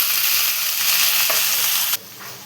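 Cluster beans (guar) tipped into a hot frying pan for a green-masala vegetable dish, a loud steady sizzle of frying that cuts off abruptly near the end and then continues more softly.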